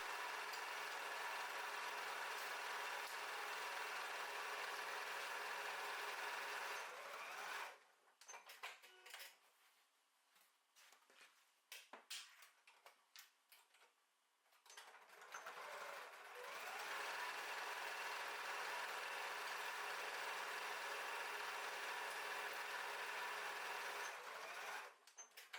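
Sewing machine stitching fabric panels for a flat-bottomed drawstring bag, running in two long continuous bursts of fast, steady whirring with a broken, quieter stretch of clicks and handling noises between them, no voices.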